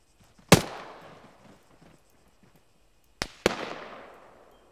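An MG3 machine gun fires from distant trenches: one sharp report, then a quick pair of cracks a few seconds later, each trailing off into a long echoing decay over otherwise quiet surroundings.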